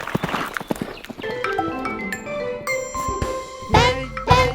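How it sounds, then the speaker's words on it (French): Rhythmic clip-clop hoof beats of a horse galloping, mixed into a children's song with chiming bells and tinkling tones, ending on a loud whinny-like sound. "Fais le cheval gris qui galope la nuit"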